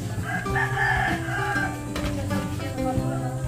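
A chicken at a rural Philippine barrio fiesta, clucking and crowing with overlapping calls against busy background noise, fairly close, with no clear talk.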